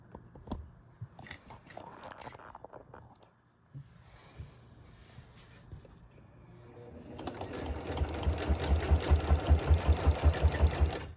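A Kenmore sewing machine runs a straight stitch, starting after some quiet handling and then settling into a fast, steady rhythmic whirring chatter that grows louder and continues to the end, close by.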